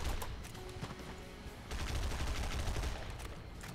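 Rapid video-game gunfire in God Mode, dense bursts of shots running continuously, loud and close, swelling heavier in the second half, with no voices over it.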